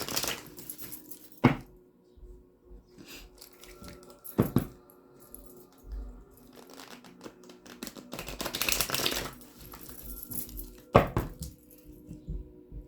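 Phantom Wise Tarot cards being shuffled by hand, heard as a series of soft riffling and tapping bursts spaced through a quiet room, close and fairly faint, with no talking.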